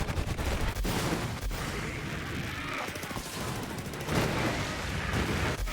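Dense bursts of video game gunfire and booming explosions in Borderlands 3 crackle and rumble over one another, loud and chaotic, with brief lulls before the barrage picks up again.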